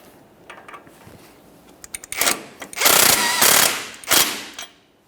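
A power tool runs the tie rod mounting nut down on a 2004-2008 Ford F-150, starting with light clicks and then giving loud, rapid rattling bursts of impact hammering up close, followed by a final short burst.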